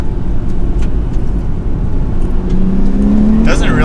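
Manual Nissan Z sports car driving through turns on a mountain road, a steady close engine drone with continuous road and tire rumble and a short rising whine near the end.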